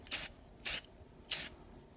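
Three short, separate bursts of an aerosol or airbrush spraying a very light coat of paint onto an N scale model locomotive, each hiss lasting about a quarter second, close by and with no talking.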